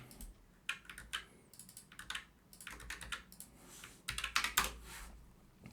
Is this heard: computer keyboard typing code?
yes